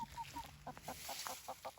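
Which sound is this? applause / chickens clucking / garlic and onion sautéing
chickens clucking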